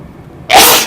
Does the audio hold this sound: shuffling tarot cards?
no